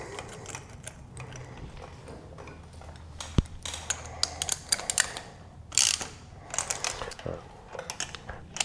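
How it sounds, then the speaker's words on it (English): A ratchet with a 14 mm deep-well socket clicks in short irregular bursts while fitting a spark plug on a BMW R1200GS motorcycle, close and fairly quiet, with metallic tool clinks in between. "I have a new LMAR8DJ spark plug to put in. So with my 14 millimeter deep well socket,"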